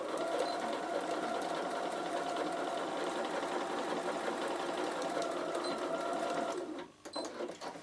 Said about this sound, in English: I just continue on stitching